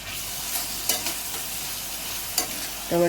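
Onion and tomato sautéing in a pan over a high flame for egg bhurji, giving a steady close sizzle with a few scraping stirs and a clink of the spatula near the end, without any voices.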